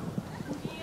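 Horse hooves clip-clop at a stable, several quick soft thuds in an uneven rhythm, fairly close but muted.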